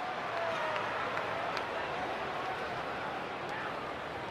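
A Gold Coast crowd at an AFL football match roars steadily at a missed goal, a broad, distant wash of cheering and noise holding at even level throughout the short stretch.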